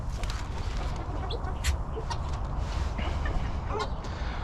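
Chickens clucking on a farmyard walk on Yelagin Island, St. Petersburg, a steady busy flock chatter with scattered sharper calls over low outdoor rumble, no voices.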